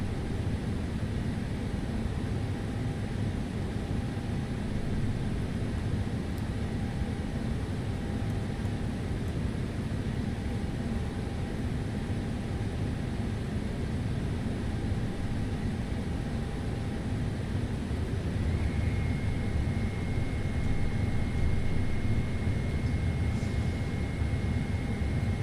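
PMDG 777 jet engines in MSFS 2024 with Boris Audioworks sound sets: a steady, droning roar with a faint whine, holding even and building slightly toward the end.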